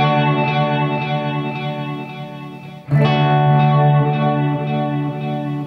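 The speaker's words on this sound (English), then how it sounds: "here's what it sounds like just playing a chord and then stopping it" Guitar chord played through pedal effects in the effects loop of a Marshall SV20H amp: a lush, shimmering sustained chord, restruck loudly near the midpoint and ringing on with a chorus-like wash and trailing reverb, no voices.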